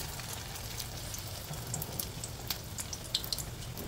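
Egg-coated fish and potato kebabs sizzle in hot oil as they fry golden, a steady close hiss broken by scattered small crackles and pops that grow busier toward the end.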